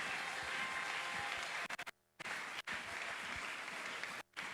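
Steady applause from a church congregation fills the space, dense and sustained, with a couple of brief dropouts to silence along the way.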